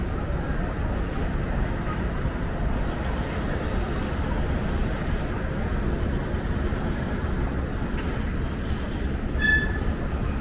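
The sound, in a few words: subway train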